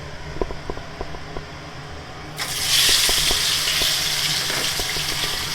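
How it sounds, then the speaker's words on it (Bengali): Peeled boiled potatoes drop into hot oil, and a loud sudden sizzle bursts in partway through and then continues steadily, following a few light taps and clinks at the start. "আলুটা প্রথমে একটু ভাজা ভাজা করে নেব"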